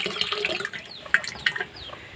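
A strong flow of drilled well water gushes out with a steady, rushing splash that continues unbroken for about two seconds, close and moderately loud.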